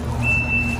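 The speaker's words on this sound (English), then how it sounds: "Backup alarm." Backup alarm on a 2023 Kubota SVL97-2 compact track loader fitted with a forestry package: one steady, high electronic tone sounding close and clear over a low idling engine rumble, with no talking.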